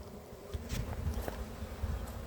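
Honeybees buzz steadily from an open hive during a spring inspection, a dense close hum with occasional louder passes of bees near the frames.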